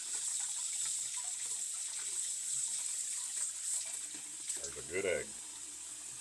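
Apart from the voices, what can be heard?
running tap water while peeling boiled eggs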